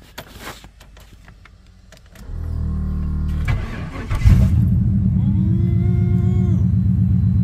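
A pickup truck engine, after sitting two days, cranks over for a second or so, catches with a roar, then settles into a loud, steady rumbling idle up close.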